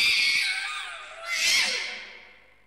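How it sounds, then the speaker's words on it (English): A Mandragora creature screaming in the horror video game Haunting Ground, a loud shrill wailing shriek that swells twice and fades out, alone without talk. "I think you can actually die from their scream if you don't put them into like a pot or something."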